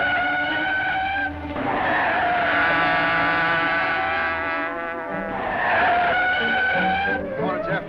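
Car tires squeal long and loud as a vintage automobile swings hard around a corner during a chase, the screech rising and holding for several seconds alone without talk.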